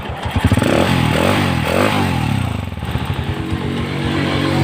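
Honda TMX 155 motorcycle engine running after conversion to a battery-operated CDI from a Win 125, a loud close idle with uneven throttle blips and a rattling, pulsing exhaust note.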